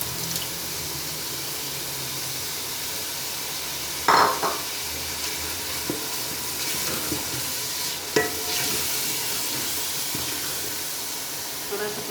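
Powdered spice masala frying and being stirred in a pan for a lobia gosht curry, a steady close sizzle with scraping stir strokes, sharper bursts around the middle and later, and no talk over it.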